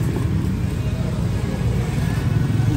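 Low, steady traffic rumble from cars on a street dominates throughout, loud and continuous without distinct passes.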